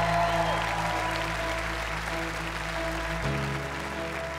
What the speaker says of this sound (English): A big round of applause, please, for Simon.